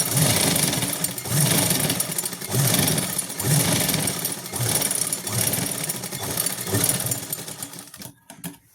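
A sewing machine stitches a seam on a pair of pants beside the pocket in quick, rhythmic bursts with short pauses between runs, close and clear with no speech.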